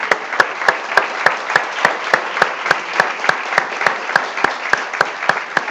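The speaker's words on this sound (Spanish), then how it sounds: "Démosle un aplauso al Señor," A church congregation claps together in a steady, regular rhythm, sharp in-time beats rising over a dense layer of scattered applause, continuous and fairly loud throughout.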